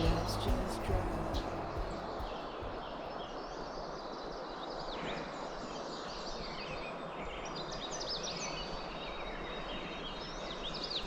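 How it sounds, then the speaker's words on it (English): Several birds chirp and call in the upper range in the morning in northern Ontario, Canada, over a steady broadband outdoor background, with scattered short whistles throughout. "Waking up to birds chirping"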